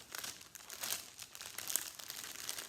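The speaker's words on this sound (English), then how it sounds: "I like the crinkling. I like to hear the crinkling." Plastic packaging from a Diamond Art Club diamond painting kit crinkles and rustles close up in steady, continuous handling for a few seconds, with no talking.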